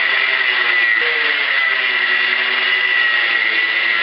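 An electric saw grinds steadily through a car muffler in a workshop, a loud continuous whining drone with no pauses and no talking.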